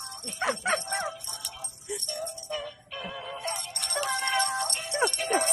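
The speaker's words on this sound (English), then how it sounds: "Here's a doggy." Short dog barks and yips from a game mix with music and clattering effects, repeated several times at moderate loudness.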